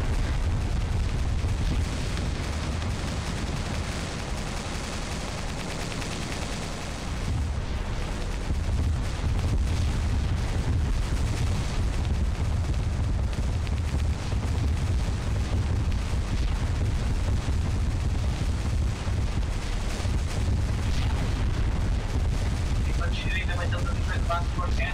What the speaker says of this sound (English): Missiles are inbound